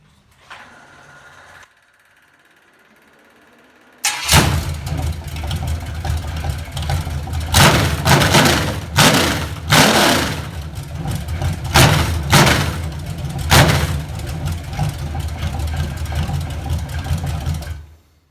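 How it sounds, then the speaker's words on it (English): A Chevrolet C10 truck engine, fitted on clamshell mounts during a budget build, cranks and fires up, then settles into a loud, steady, rumbling idle close by. Revs rise and fall briefly before it cuts off at the end. "Here, I'll show you a clip of the motor right here."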